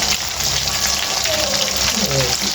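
Fish steadily frying in hot oil in a home kitchen, a continuous bright sizzle with bubbling crackle running the whole time, fairly loud and close, with brief faint voices and clatter in the background.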